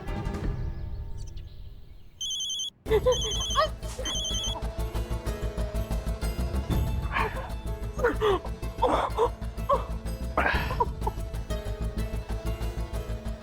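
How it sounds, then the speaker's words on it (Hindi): Short bursts of an electronic telephone ring sound early on, over background music and a few voices. "हमको लग रहा है फोन की घंटी बजी।"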